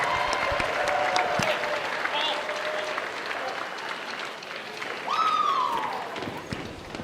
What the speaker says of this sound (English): how about one more round of applause for our Viking seniors